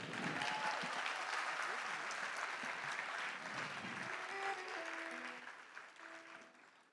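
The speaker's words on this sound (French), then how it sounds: "Est-ce qu'on peut applaudir pour lui?" A concert audience at the Institut Français du Congo applauds a young performer, full sustained clapping and some cheering that gradually thins and fades, with music tones entering softly toward the end.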